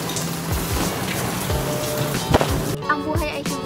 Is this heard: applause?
no